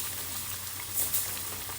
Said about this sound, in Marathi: टाकले टाकले तेलामध्ये लगेच चम्मच फिरवायचं नाही थोडंसं त्याला फ्राय होऊ द्या